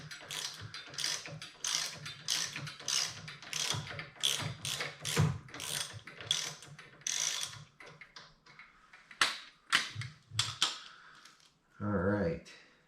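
A ratchet wrench fitted with 9/16 and T45 sockets loosens bolts on a Harley-Davidson Dyna Wide Glide, giving off quick bursts of close, crisp clicking with short pauses, then a brief metallic clunk near the end.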